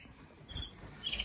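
Four baby birds in a nest give faint, high chirps, a thin peep near the middle and a brighter cluster of tweets toward the end, over a soft background rumble with no talking.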